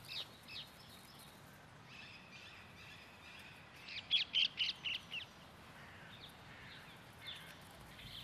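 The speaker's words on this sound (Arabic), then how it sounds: "في موطنه الأصلي في الهند يعتبر ببغاء ألكسندرين آفة" Alexandrine parakeets in an Istanbul rose garden, the city's oldest public park, give a quick run of about six harsh, squawking calls at a distance over faint outdoor ambience.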